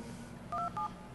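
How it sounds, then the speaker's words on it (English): Telephone keypad DTMF tones from a soft phone dialing a conference call: two short, clear electronic beeps in quick succession, moderately loud over a faint hiss. "I'm going to ping a computer using just DTMF tones"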